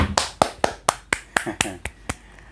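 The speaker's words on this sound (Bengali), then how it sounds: "নূরজাহানের জন্য একটা হাততালি দাও।" Sharp handclaps from a children's classroom game, about eight separate claps in an uneven rhythm, close and fairly loud, with a bit of voice between them.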